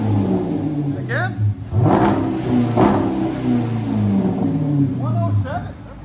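A 2019 Dodge Durango R/T with a HEMI V8 and aftermarket resonators, revved hard several times in loud, close bursts that rise and fall, with people talking and reacting over it.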